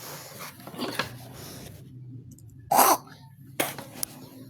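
Several short, rough bursts of coughing from a woman, including one loud sharp hack, with breathy pauses in between.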